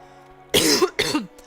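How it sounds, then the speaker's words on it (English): A person coughs twice in quick succession during a gameplay livestream, two loud, close bursts with a short gap between them over a faint background hum. "so that I don't continue coughing your ears off"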